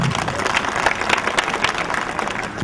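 Audience at a Telugu stage play about the life of Babasaheb Ambedkar applauding the performers, a thick, steady wash of clapping throughout.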